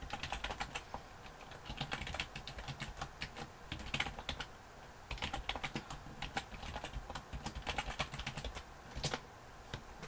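Fingers type on a computer keyboard while entering a PlayStation username and password, rapid close keystrokes in uneven bursts, quiet and with no talking.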